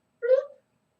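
A cat gives a single short, clear meow close by in a pottery shop, rising and falling in under half a second, then quiet.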